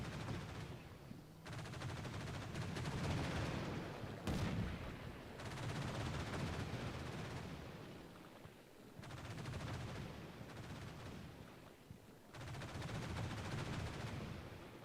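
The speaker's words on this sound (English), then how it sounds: "Those 20mm guns are fucking lit. Meanwhile, our artillery's hitting this" Rapid bursts of 20mm gunfire and artillery in the Combat Mission war game, several long rattling volleys separated by short pauses, fairly distant and muffled, with a sharper crack near the middle.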